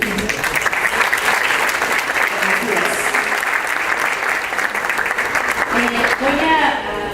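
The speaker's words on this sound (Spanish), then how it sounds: "para quien pido un aplauso" A lecture-hall audience applauds a guest lecturer at the start of a keynote conference, with sustained, dense clapping close by and steady throughout, and a voice beginning to speak near the end.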